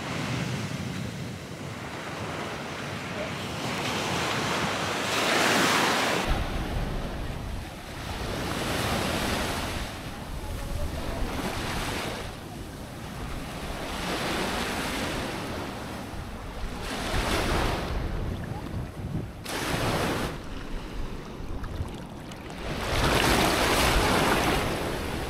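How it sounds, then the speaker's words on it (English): Ocean waves surge and wash onto a beach in Tayrona National Park, Colombia, rolling in repeated broad swells every few seconds under steady wind noise on the microphone. "There's some waves, but it's not too bad."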